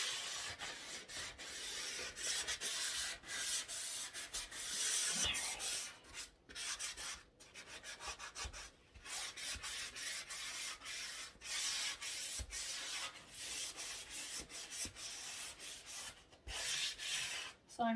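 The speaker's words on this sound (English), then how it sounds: "this is where we do some sanding" Continuous rough rubbing and rasping of a medium-fine grit sanding sponge against wooden trim, steady back-and-forth strokes with brief pauses, close and fairly quiet, no talking.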